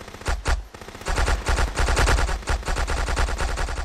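Rapid automatic gunfire in the Minecraft Xbox Guncraft video game, dense loud bursts of shots firing in quick succession with brief pauses, no voices over it.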